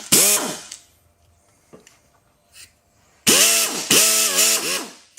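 A 3/8 drive ratchet with a long extension gives two loud bursts of fast clicking, one short and one longer, very close, with quiet handling noises between them and no talk.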